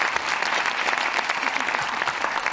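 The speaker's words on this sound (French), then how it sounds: "on peut l'applaudir." An audience at a live rock opera performance bursts into loud, sustained applause, thick overlapping clapping close by and steady throughout.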